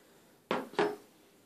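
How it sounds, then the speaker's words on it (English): A spoon coated in homemade coconut oil and raw honey deep conditioner knocks twice in quick succession, two sharp, close clinks about a third of a second apart, against a quiet background. "I just wanted to get the stuff off the spoon."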